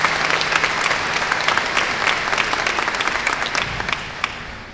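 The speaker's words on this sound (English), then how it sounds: "Please join me in a round of applause for the trustees to provide the governance for the university." Audience at a university spring commencement ceremony applauding the trustees, a dense, steady wash of many hands clapping across a large hall, sustained throughout and slightly fading at the end.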